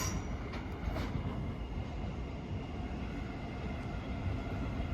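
Class 465 electric train 465173 rolling past at Lewisham station, a steady broadband rumble of wheels on rail with faint squeal, sustained and fairly distant throughout.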